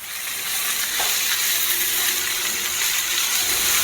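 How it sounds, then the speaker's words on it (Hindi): Vegetables frying with spices such as chilli powder, garam masala and MSG in a pan for a veg roll, giving a steady, close sizzle with faint stirring scrapes and no talk. "और इसको हम अच्छे से भून लेंगे।"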